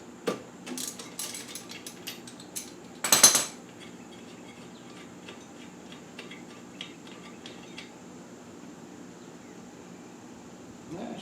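A socket ratchet clicks briefly, with a denser burst of clicking partway through, as it backs the spark plug out of a 1974 Suzuki TC 125 two-stroke motorcycle; the shop is quiet apart from a few light metallic taps.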